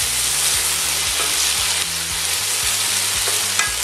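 Onions frying in a pan for a beef and onion dish, with a loud continuous sizzle close up and a regular scraping stir beating through it, no talking.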